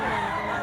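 A young stag rooster at a Mantalungon, Cebu livestock market crows briefly and loudly up close, a short sustained strained note with a little outdoor background noise.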